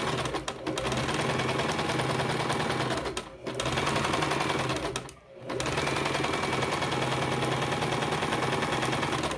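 A sewing machine stitches patchwork fabric strips in a fast, steady mechanical whir, close and continuous, stopping briefly twice before running on again.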